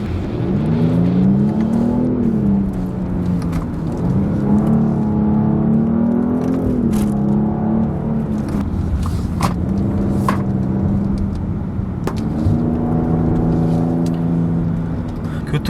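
A Genesis G80 sedan's engine hums and revs while driving on an ordinary road, its pitch rising and falling with throttle, heard steadily from inside the cabin.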